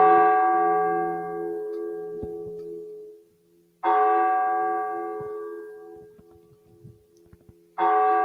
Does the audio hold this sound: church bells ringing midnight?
yes